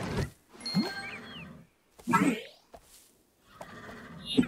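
A hungry horse in a Barbie Dreamhouse Adventures video game whinnies several times in short bursts separated by brief pauses, with bright chimes and electronic jingles mixed in.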